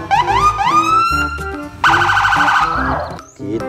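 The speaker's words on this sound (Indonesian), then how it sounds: "ada mobil polisi" A toy police car plays an electronic siren close up, loud rising wails followed by a rapid warbling yelp and a brief high tone at the end.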